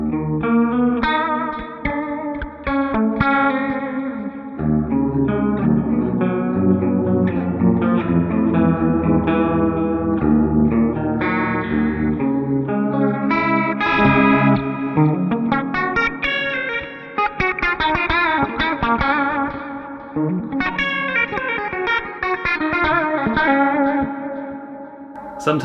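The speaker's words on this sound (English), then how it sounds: "A cloner chorus sounds good." A clean electric guitar runs through a Cloner chorus pedal in a thrash metal-style tone setup, playing a continuous riff with shimmering, wavering chorus and light echo, loud and alone.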